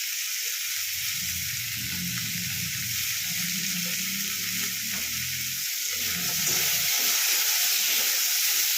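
Chicken seasoned with salt and pepper frying in a pan for Tibetan thukpa, giving a steady hiss and sizzle with a low bubbling rumble and occasional stirring, close and alone.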